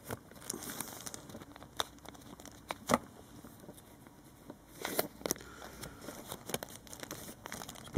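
A plastic bag around a set of Blu-ray or DVD cards crinkles and crackles in short, scattered bursts as the cards are eased out, close and fairly quiet, with a few sharper rustles and no talking.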